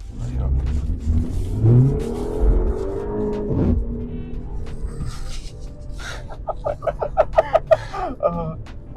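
A manual rear-wheel-drive BMW accelerates, its engine rumbling low and rising in pitch through the revs, near and fairly loud, with some talk and clicking toward the end.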